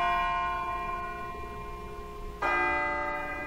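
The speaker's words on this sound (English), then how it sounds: "It sounds like a bell, but where's it coming from?" A bell in Persona 3 Portable rings with a sustained, resonant metallic tone that slowly decays, then strikes again louder partway through, its ringing overtones hanging in the air with no voices.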